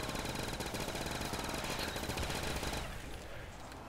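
Rapid automatic gunfire in a zombie video game on a pirate ship, a dense, continuous rattle of shots that tapers off near the end, loud and alone.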